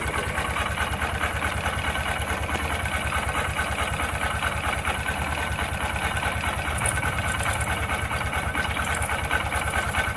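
Honda SP 125 BS6 motorcycle engine idling during a timing chain replacement with the oil drain bolt loosened, a steady, even close-up putter with rapid rhythmic firing and no talk.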